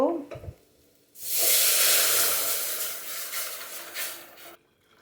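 Chopped garlic, ginger and chicken stock poured into a hot buttered pan erupt into a loud, close, broadband hiss that surges and then slowly fades over several seconds, ending abruptly, with a brief clunk just before it.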